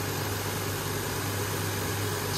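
A 2004 Lexus GS 300 idling, a steady, smooth low hum with an even broadband whir, close and constant with no revving or voices.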